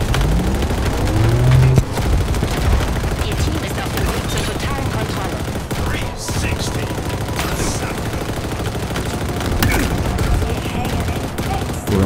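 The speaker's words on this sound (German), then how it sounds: "Dauerfeuer ungeheuer, meine Damen und Herren" Sustained automatic gunfire in a large-team battle match of the video game Halo Infinite, dense rattling bursts running nearly the whole time with a few louder booms, loud and close, with a voice talking over it.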